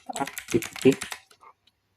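Quick, uneven clicking of a computer keyboard as code is typed during Android app development, close and fairly loud, in a short two-second burst that tapers off.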